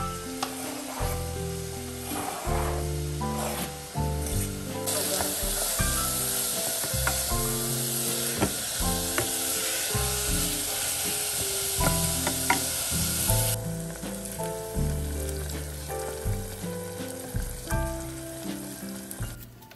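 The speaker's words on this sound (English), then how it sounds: "On the hot pot, I'm gonna place the chopped onion." Steady, loud sizzling of chopped onion frying in hot olive oil in a pot, with repeated stirring and scraping knocks throughout.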